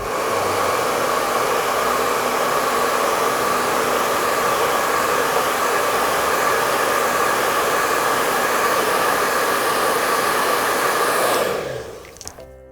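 A hair dryer blows steadily and loudly, close up, drying a fresh layer of watercolour paint, then switches off near the end and winds down, with no voices.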